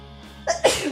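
A person sneezes once, loud and close: a short intake of breath, then a sharp burst that trails off, with no talking.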